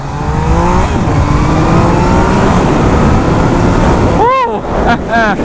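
A 2020 Yamaha MT-09 naked motorcycle accelerates hard, its engine roaring loudly and rising in pitch under heavy wind rush, then briefly easing before revving again near the end.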